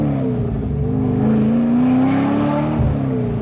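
A car engine drones loudly and continuously, its exhaust holding a deep, rumbling tone that rises slightly mid-way, with no voices.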